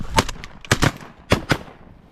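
Several shotgun blasts during a Mississippi Delta duck hunt, fired in quick pairs: two sharp reports early, a close double around the middle and another double later, loud and near with no talk between them.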